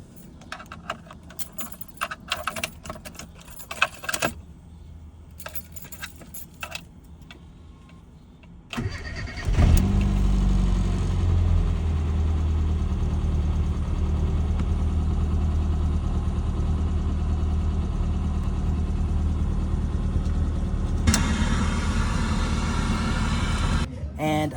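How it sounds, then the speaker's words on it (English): Keys jangle loudly up close in a Rover Mini's ignition, then after a pause the engine cranks and catches, settling into a steady, even idle that holds to the end with a brief rise near the finish. "This is how I've been starting the car."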